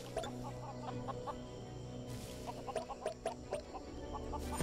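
A chicken in the video game Lego Worlds clucks in a quick series of short, soft calls over a steady game background hum, all fairly quiet.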